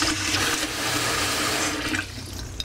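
Water gushes steadily from a kitchen sink tap in a room at an oceanfront hotel in Wildwood, New Jersey, a close, loud rush that eases off near the end.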